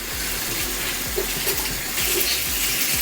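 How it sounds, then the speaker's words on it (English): Tap water runs steadily while a Beauty Blender sponge is rinsed and squeezed under it, a close, continuous splashing hiss with a soft, rhythmic squelch. "you're going to run it under water and squeeze it like you would if you're about to use it"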